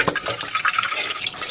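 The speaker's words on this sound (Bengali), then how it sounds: "পাতাকপিগুলো ধুয়ে নিই" Running water pours steadily from a tap over cabbage being washed in a kitchen sink, a continuous close splashing hiss with no talk.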